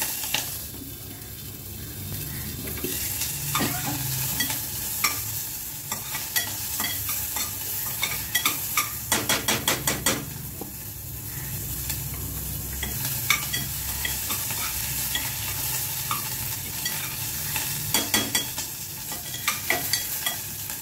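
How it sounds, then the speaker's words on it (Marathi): Garlic and ginger roast in a pan with a steady background sizzle, punctuated by bursts of rapid metallic stirring clatter and spatula taps, fairly close, no talking. "हे लसूण घेतलाय आणि हे अद्रक घेतलंय, हे भाजून काढू।"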